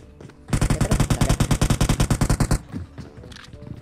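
Rapid automatic gunfire in a mobile battle-royale shooter, a loud sustained burst of about twenty evenly spaced shots lasting two seconds, then fading into softer scattered game noises.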